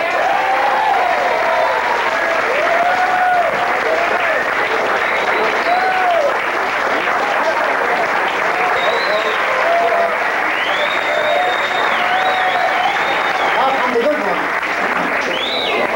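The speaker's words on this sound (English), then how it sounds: "Let's give a big round of applause" Loud, sustained applause from a large comedy club audience, steady clapping filling the whole stretch with a few cheers mixed in.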